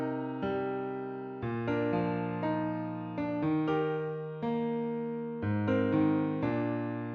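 A sampled piano, the default Pure patch of the Noir library with no processing, plays slow sustained chords, each note clear and decaying alone without any voices.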